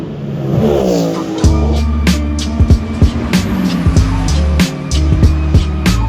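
WEC race cars during practice at Imola, heard from the general admission area as a loud, steady engine roar with repeated sharp gear-change pops and cars passing close by.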